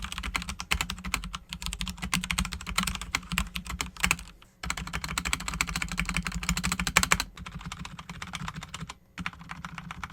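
Rapid, continuous clacking of keys on a Royal Kludge RK61 60% budget mechanical keyboard, close up, with a couple of brief pauses and no talking.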